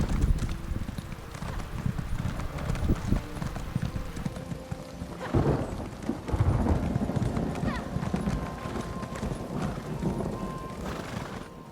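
Steady clip-clop of horse hooves trotting with a whinny partway through, under a busy background of game music and ambience.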